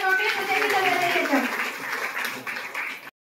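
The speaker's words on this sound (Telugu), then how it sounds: "మనందరం గట్టి చప్పట్లతోటి" An audience at a public meeting claps loudly in sustained, dense applause, with a voice speaking over the start, before the clapping cuts off abruptly at the end.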